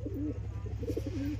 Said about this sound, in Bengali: এগুলো মুর্শিদাবাদ গিরিবাজ পায়রা